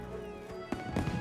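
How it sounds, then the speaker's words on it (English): Fireworks popping in the video game Monster Hunter Wilds, a couple of sharp bursts over a dense musical game background, fairly close and moderately loud. "I heard the fireworks going off."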